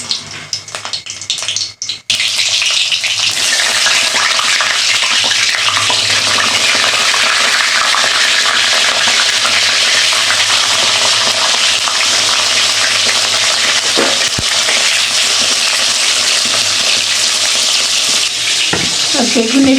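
Salted pointed gourd (potol) pieces drop into hot oil, a short quiet lead-in giving way abruptly to a loud, steady, close hiss of frying that holds for the rest, with a few faint utensil clicks.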